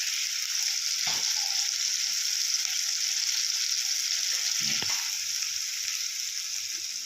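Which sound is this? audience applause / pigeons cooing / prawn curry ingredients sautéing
prawn curry ingredients sautéing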